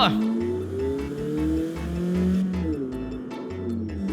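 CarX Street racing game engine noise with squeals from modified brakes rising and falling, a steady low rumble underneath, and a voice talking over it.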